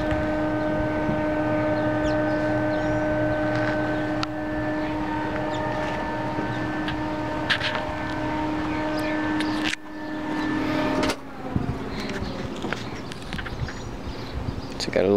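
A Mazda 13b rotary engine fitted in a VW Bug idles cold and a little unevenly, a steady buzzing drone with faint blips, heard close with some talk.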